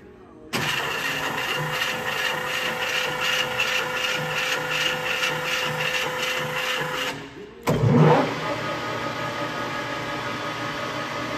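A LeBlond 19 x 78 inch Regal Servo Shift lathe with a 3 inch spindle bore starts up and runs with a steady, close mechanical whine and hum, then a brief clunk as it shifts and settles back into a continuous running drone.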